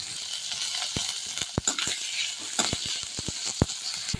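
Cabbage and tomato sautéing in a pan for soybean rice, a steady sizzle broken by sharp, irregular clicks of a spoon stirring against the pan, close up with no talk.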